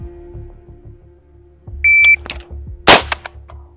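During a timed shooting drill by Spanish soldiers training in Poland, a single short electronic start beep sounds, and a sharp gunshot follows about a second later against quiet, low background rumble.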